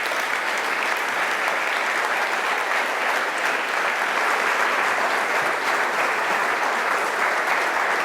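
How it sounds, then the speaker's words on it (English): An audience applauds steadily for Ai Weiwei as he comes onstage for a live artist talk at the Kunsthal, a dense wash of clapping that holds evenly, close and full, with no voices standing out. "Can I have a round of applause for him?"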